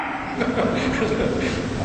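A voice imitates a dog barking with a few loud, rough yelps while telling a story during an evening religious lecture.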